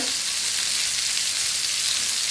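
The last batch of French fries goes into hot oil for a second fry, giving a dense, continuous hiss of bubbling fat, close and steady throughout the short stretch.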